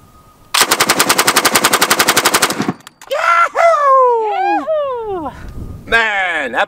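Russian SGMT machine gun firing from an open bolt in one long rapid burst of about two seconds, loud and close, followed by people talking.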